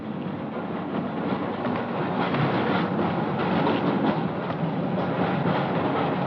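A train runs on rails with a steady loud rumble and faint rhythmic clatter of the wheels, heard as if from inside a carriage, with no talk.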